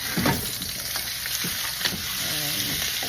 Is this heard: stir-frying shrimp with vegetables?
yes